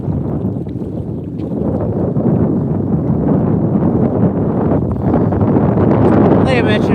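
Steady wind gusts buffet the microphone beside a park pond in Kettering, Ohio, on a February day, a continuous low rumbling roar with no pause throughout.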